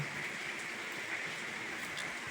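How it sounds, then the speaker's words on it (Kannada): Heavy rain falls outside at night, a steady, even hiss of water that carries through the whole stretch with no voices. "ಸೌಂಡ್ ಇದು ನೋಡ್ರಿ ಮಳೆ ಅದೆಲ್ಲ ಫುಲ್ ಮಾಡೈತ್ರಿ ಈಗ ರಾತ್ರಿ ಫುಲ್ ಮಳೆ ನೋಡ್ರಿ"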